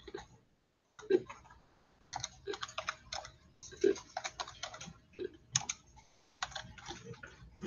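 Computer keyboard typing in irregular bursts of close, crisp key clicks with short pauses between runs, heard on its own without talk.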